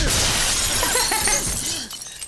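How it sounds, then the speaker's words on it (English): Glass shatters as a character is punched through a pane in the Yakuza 6 video game, a loud, close burst of breaking glass followed by a scatter of falling shards that quickly fade. "Man punched him through the glass."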